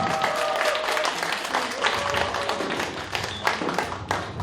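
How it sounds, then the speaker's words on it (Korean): An audience at a year-end gathering of a performance troupe claps to welcome a guest singer, a dense, close burst of applause with scattered sharp claps and faint background voices. "박수 한 번 부탁드립니다"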